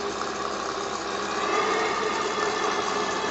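An 8.5 cc model steam engine runs fast on a workshop boiler at half a bar, giving a steady, continuous, dense mechanical whir that stays loud and unbroken throughout, with no talking.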